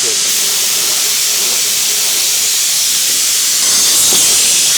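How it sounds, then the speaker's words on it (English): A waterjet cutter with the abrasive feed switched on gives a loud, continuous hiss of the stream. It roars steadily throughout, with a brief sharper burst near the end. "You'll notice that the sound changes and the stream gets wider as you turn on the abrasive."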